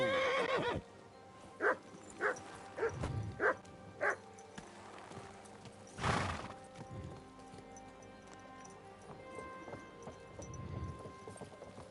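A horse neighs in a video game, Kingdom Come: Deliverance II, then a string of five short hoof-like thuds follows, with a second whinny burst later over soft, muffled background noise.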